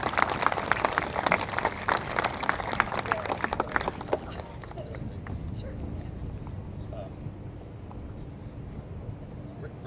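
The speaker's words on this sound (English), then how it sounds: "So let's give a big round of applause for Mr. Fisher." A burst of clapping and applause from a crowd at a school Arbor Day celebration fills the first few seconds, then fades into a low background murmur.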